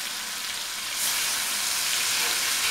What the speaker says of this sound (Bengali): পেঁয়াজ বাটা দিচ্ছি